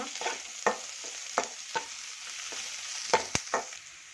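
Fenugreek leaves fry in a pan for an avarekalu saaru, with a soft sizzle broken by sharp, irregular scrapes and taps of a stirring spoon close by.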